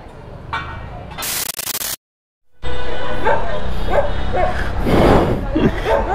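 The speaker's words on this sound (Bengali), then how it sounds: "মানে কুকুরগুলো খেপতেছে" Agitated street dogs bark and yip in short, loud bursts from nearby, over busy outdoor traffic noise, with a brief dropout of sound partway through.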